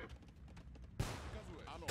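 Cannons firing in a real-time strategy game match, a muffled battle din that breaks into a sudden loud volley of booms about midway, followed by continued blasts, with a commentator talking.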